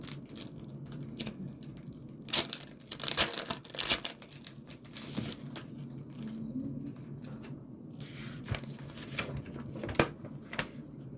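A paper promotional insert for a book is torn open close by: several sharp ripping bursts, followed by softer paper crinkling and rustling with quiet gaps.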